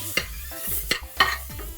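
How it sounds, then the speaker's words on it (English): Onions and green chilies fry in a pot while a spoon stirs them, giving rhythmic scraping strokes over a soft, steady sizzle in a short close-up burst. "now I'm gonna fry them till they become light golden brown."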